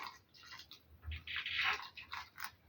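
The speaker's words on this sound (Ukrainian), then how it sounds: "Можна отут на цьому етапі їх полити трохи." Water mixed with leftover violet rooting solution being poured onto potted plant cuttings, making soft, faint trickling and splashing bursts into the soil, close by.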